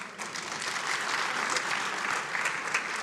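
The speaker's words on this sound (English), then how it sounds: "Let's give a round of applause to Madam Matt." An audience at a governors' forum applauding, a steady wash of hand claps heard throughout with no talking over it.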